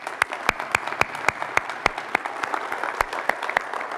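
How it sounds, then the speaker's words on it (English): Applause for a boys basketball dream team at a winter sports event: a crowd claps steadily, with a few sharp, loud individual claps close by standing out above the rest. "let's give our boys basketball dream team one more big round of applause"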